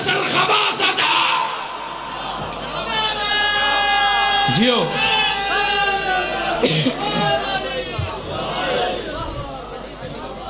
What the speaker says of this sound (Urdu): نعرے میں لگانے والے کا زور زیادہ ہے، جواب دینے والے کا کم ہے